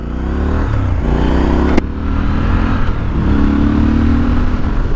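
A Triumph Scrambler 1200XE motorcycle accelerates hard in sport mode with traction control off, its engine rising in pitch, dipping briefly at a gear shift, then climbing again, loud and close.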